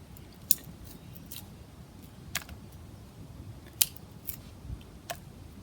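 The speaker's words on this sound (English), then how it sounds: "I'm just gonna throw some kindling in there." Kindling sticks no thicker than a pencil tossed into a campfire produce a handful of sharp, sparse clicks and snaps over a faint, low background rumble.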